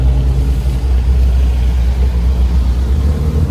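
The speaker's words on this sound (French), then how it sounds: "458 spécial Aperta qui s'en va" A Ferrari 458 Speciale Aperta pulls away on a Monaco street, its engine a loud, steady low rumble that holds throughout without speech.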